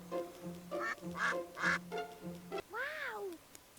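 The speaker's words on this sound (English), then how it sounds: "Could it be a bird? Close, but it's a duck." Cartoon duck quacks from the video game My Friend Peppa Pig: a quick run of bright, evenly spaced quacks followed by one longer, drawn-out quack, clear and close with no talking.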